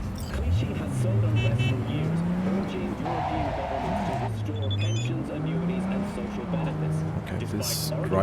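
A car driven in the Cyberpunk video game, its engine note rising and falling through repeated gear shifts and revs, loud and steady throughout with faint whispery speech beneath.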